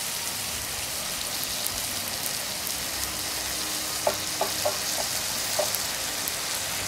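Onions and capsicum sizzle in a hot pan as soya sauce goes in: a steady, close frying hiss with a few sharp crackles and pops near the end, and no voices.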